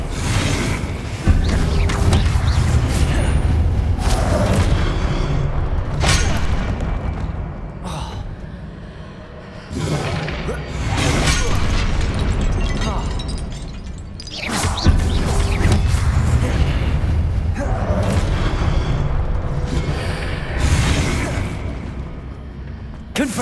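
Repeated Confringo fire-spell blasts in Hogwarts Legacy: booming fiery explosions burst again and again over a dense, continuous rumble of spell effects and combat noise, with short lulls between bursts.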